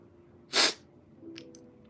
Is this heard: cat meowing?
no